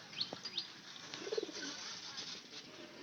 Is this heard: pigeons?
yes